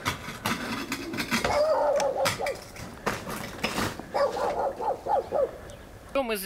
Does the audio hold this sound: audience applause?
no